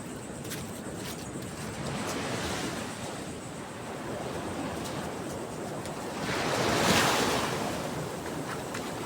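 Ocean waves crash on the shore in a steady, close roar with wind buffeting the microphone, swelling into a louder surge near the end; no voices.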